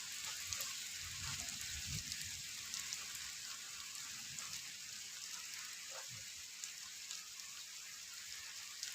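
Steady rain falls continuously, a soft dense hiss of drops with occasional louder splashes, even and moderately quiet throughout with no talk.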